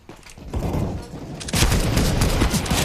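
Gunfire in Counter-Strike: Global Offensive, a dense, loud burst of rapid shots and booming blasts that grows heavier partway through, with no voices.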